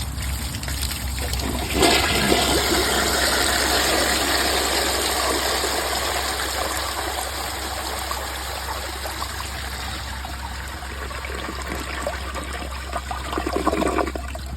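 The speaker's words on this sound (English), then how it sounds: "I'm obviously going to give this toilet a flush to show you all how it flushes" A 2000s Mansfield Alto toilet on a mid-sized 3.5-gallon tank flushes with a loud, powerful rush of water that rises sharply, then swirls and drains steadily for many seconds, close by.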